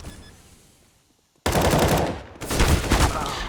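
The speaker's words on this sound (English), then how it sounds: "Drew the Shrew heard the shots" Gunfire from a competitive Counter-Strike match on the Ancient map, loud bursts of rapid shots starting abruptly after a quiet moment, briefly pausing, then resuming as a dense, sustained volley.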